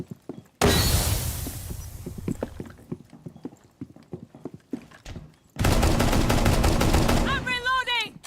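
Gunfire in Rainbow Six Siege: sharp single shots crack out repeatedly, then a dense burst of rapid automatic fire rings out loudly before ending in a ringing tail.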